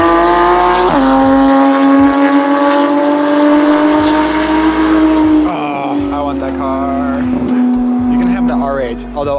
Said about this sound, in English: That GT3RS just sounds so good.